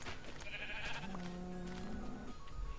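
Minecraft sheep bleat in short wavering calls, a couple of distinct bleats at moderate distance over faint game background noise.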